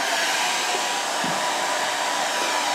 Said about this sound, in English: let's turn on the hairdryer maximum setting